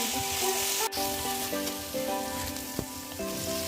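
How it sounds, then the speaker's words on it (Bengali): Garlic paste sizzles in hot oil with bay leaf and whole garam masala, a steady close frying crackle with occasional stirring clatter, no talk. "আর এদিকে না তেলের মধ্যে তেজপাতা আর গোটা গরম মশলা দিয়েছিলাম, তারপরে এই যে রসুন বাটাটা দিয়ে দিয়েছি"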